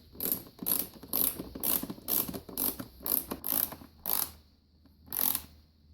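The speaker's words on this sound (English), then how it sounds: "Next, we'll grab a ratchet," A hand ratchet with a 10mm socket tightens the battery hold-down bolt on a Suzuki DRZ400, giving about ten quick close rasping clicks in short bursts with brief pauses between.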